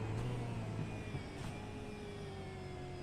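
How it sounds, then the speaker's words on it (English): V8 supercars in a Division 2 autumn series race roaring along the track, a steady engine drone with a gliding pitch as the cars speed past at high revs, fairly distant and continuous. "Bit of race noise, bit of car noise as well."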